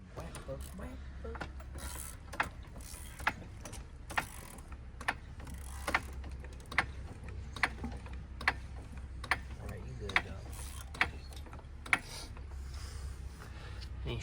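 Floor jack raising an Audi R8 at the pinch weld, a steady series of evenly spaced mechanical clicks like a ratchet pawl over a low background hum.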